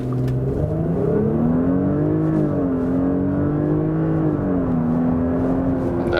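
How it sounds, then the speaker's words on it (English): A Porsche Cayenne Hybrid plug-in accelerates hard from a launch-control start, a loud interior engine drone rising in pitch through the gears with brief shift dips. "Everyone get ready for an acceleration part here, and let's go."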